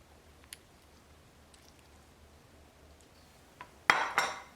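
A metal spoon scooping pre-cut fruit chunks from a dish, near silence with a few faint taps, then two louder scraping clinks near the end, close.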